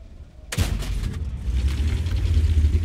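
A single loud tank cannon shot in World of Tanks bursts out suddenly, then rolls into a low rumbling tail of battle noise that lasts to the end.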